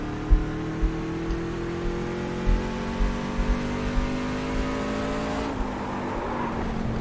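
Truck engine droning steadily while driving on a dirt track in the iRacing sim, a sustained mid-loud hum with gear-like pitch shifts and small thumps from bumps, heard alone.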